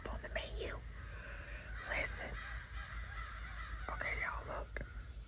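Blackbirds calling at a campsite, a few harsh caw-like calls scattered over a few seconds, moderately distant and fairly faint against a quiet outdoor background, with hushed speech mixed in.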